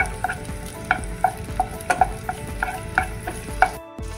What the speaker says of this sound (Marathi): जरा तेल तापला की आपण त्याच्यावर कांदो घालून जरा परतून घेतलो असं.